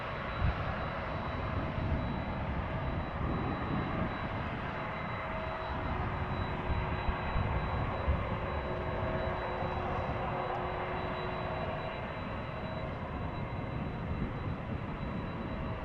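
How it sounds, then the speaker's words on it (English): An Embraer 175 jet airliner roaring on takeoff at Amsterdam Schiphol Airport, a steady, loud broadband engine rumble with a faint whine, continuous and unbroken for the whole stretch. "Now, we are going to see a departure over here. You can clearly hear it."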